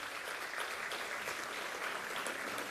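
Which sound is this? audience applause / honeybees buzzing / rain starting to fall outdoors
audience applause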